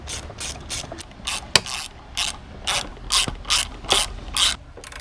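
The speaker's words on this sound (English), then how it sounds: "just tightening up the bolts" A hand ratchet tightens B-series motor mount bolts with about ten short bursts of close, crisp clicking, one after another at an even pace.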